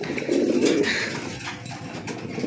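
A pair of black racer pigeons coo softly up close, a low rolling coo followed by quieter throaty murmurs, with light background rustle and no speech.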